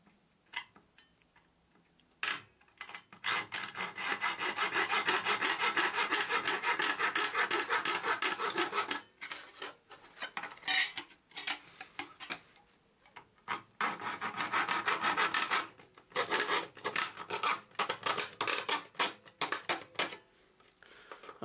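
An 11-in-1 magic saw cuts through a sheet of aluminium with rapid rasping strokes, in loud sustained bursts broken by short pauses and a few isolated clicks.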